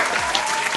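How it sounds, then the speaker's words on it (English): Canned applause sound effect played on a comedy-style metal talk show, a short burst of dense crowd clapping at steady loudness. "Let's give you a round of applause."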